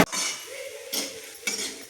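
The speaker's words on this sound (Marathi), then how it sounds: "हे असं खोबरं कलसून घ्यायचं." A spoon scraping and stirring grated fresh coconut in a pan: a few soft metallic scrapes and clinks in short strokes, close and fairly quiet.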